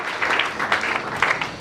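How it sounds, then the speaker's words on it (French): A church congregation claps for the Lord during a worship service, a dense burst of applause with shifting intensity that swells and fades across the short stretch. "Acclamons pour le Seigneur."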